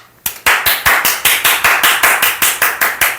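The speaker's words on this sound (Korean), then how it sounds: "정답 박수 한번 줍시다" Students in a classroom during a history lesson clap in a quick, steady rhythm, about fifteen sharp, close claps in a row with no talking.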